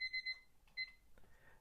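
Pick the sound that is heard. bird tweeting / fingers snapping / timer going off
timer going off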